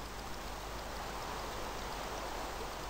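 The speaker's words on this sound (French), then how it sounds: "le bruit insoutenable de la pluie" Steady rain hiss from a Minecraft-style block-building video game, a constant even wash of fine patter with no talk or other sounds over it.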